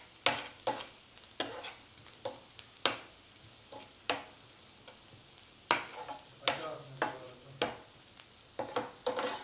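Chili powder, turmeric and spices being sautéed in a pan for a curd curry, with a steady low sizzle broken by repeated sharp scraping strokes of a spoon in an irregular rhythm, close by, no talk.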